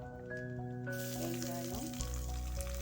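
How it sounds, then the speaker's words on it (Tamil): Seasoning fries in hot oil for a meal maker kurma, giving a steady close crackle and sizzle that grows denser partway through, with a humming tone underneath and no talking. "நல்லா பொரியட்டும்"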